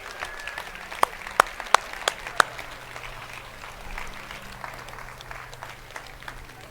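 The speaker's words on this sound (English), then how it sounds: "can we give our corporate staff a round of applause real quick as they come up" Audience applause for corporate staff coming up on stage at a conference event, a steady wash of many hands with a few sharp, close claps standing out near the start.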